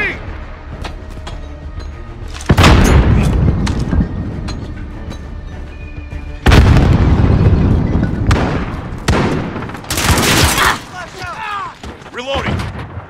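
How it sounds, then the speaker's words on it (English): Call of Duty Modern Warfare grenade blast among gameplay combat: sharp booming explosions at intervals with gunfire cracks and debris rattle, loud and close, with in-game voices calling out between them. "Throwing grenade!"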